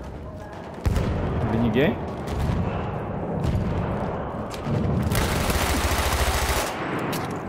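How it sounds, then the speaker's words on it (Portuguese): Thompson and other gunfire in the first-person shooter Battlefield 1: a sudden loud burst, then bursts of automatic fire and booms, near and heavy, with someone talking over the shooting. "Olha o cara atirando a doidada ali."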